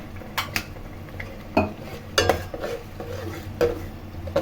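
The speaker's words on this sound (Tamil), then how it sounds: "நல்லா பச்சை வாசம் போக வர வரைக்கும் நல்லா வதக்கணும்" Masala and oil being sautéed in a pan for a mullet fish curry, with a metal spoon scraping and clinking against the pan in irregular strokes over a soft, steady sizzle, close up and with no talking.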